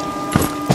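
A horse's hooves strike ground twice while being ridden in the video game Far Cry 6, two close, separate thuds over a low steady hum.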